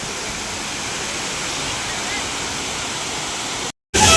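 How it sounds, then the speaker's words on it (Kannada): Honnamma Falls roars with a loud, steady rush of falling water close by, continuous until a brief dropout near the end, with voices faintly present. "ಹೊನ್ನಮ್ಮ ಫಾಲ್ಸ್ ಅಂತ ನೋಡಿ guys. It's a beautiful falls."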